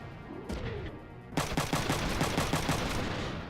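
Rapid gunfire from a shotgun in the video game Front Mission 3, first as a few scattered shots, then a loud, continuous stream of repeated blasts that runs to the end without talk.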